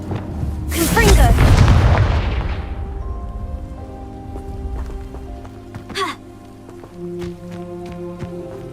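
A deep booming spell blast from the Hogwarts Legacy video game erupts with a loud crackling burst, then fades into lingering rumble and scattered game effects and tones.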